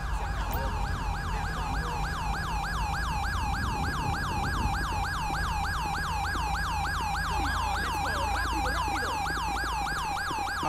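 A wailing ambulance siren in the video game Grand Theft Auto V cycles continuously and loudly, its rising and falling tone repeating steadily over a low engine rumble, with no talking.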